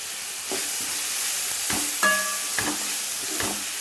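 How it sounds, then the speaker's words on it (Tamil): Drumstick leaf chutney mixture with coriander and curry leaves stirred in a pan, a spoon scraping in several separate strokes over a steady soft sizzle, close and moderately loud, with no voices. "இப்போ நல்லா கிண்டிக்கலாம்"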